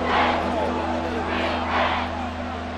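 A stadium crowd roars in the video game Madden NFL 24, a dense, continuous wall of cheering that swells in waves over a low steady hum, loud and enveloping throughout.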